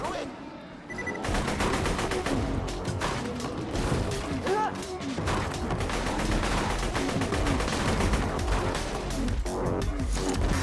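Rapid automatic gunfire and explosions fill a firefight in the video game Borderlands 2, a dense, loud, continuous rattle of shots and impacts with game effects layered over it.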